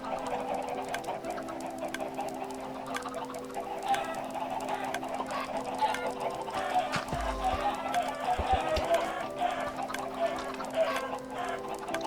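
Chickens cluck steadily in a Minecraft world, a continuous layered bed of fowl calls with game ambience, alone without talk.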